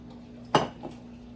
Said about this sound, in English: So in my pot, I'm going to put my squash